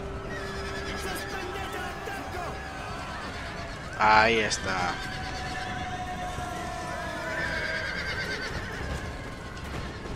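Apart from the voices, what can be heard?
cavalry horses neighing and galloping, from the video game Empire: Total War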